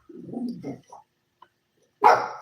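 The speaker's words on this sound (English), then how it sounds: "That's my dog." A pet dog barks and yips a few times at close range indoors while someone builds Warhammer models at a table, with a louder sharp bark at the end and a person talking quietly between the barks.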